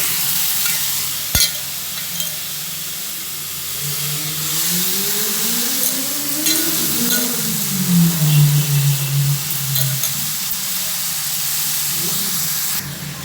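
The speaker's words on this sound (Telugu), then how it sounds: "ఇప్పుడు ఈ ముక్కల్ని మంచిగా మనము ఫ్రై చేయాలి ఈ నూనెలోనే మనం చక్కగా ఫ్రై చేసుకోవాలి" Mutton pieces frying in oil in a pan, a continuous close hiss and sizzle with stirring movement, opening with a sharp click and swelling louder toward the middle.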